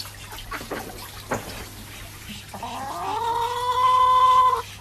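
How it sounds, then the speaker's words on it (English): Backyard hens give a few soft, scattered clucks, then a louder, drawn-out squawking call rises near the end, close by and with no talk over it. "Whoever wanted to see hens, here's some hens."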